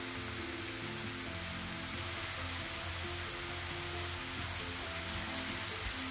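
Capsicum frying in a pan with ginger garlic paste, a steady soft sizzle that runs evenly throughout at low level, with no voices.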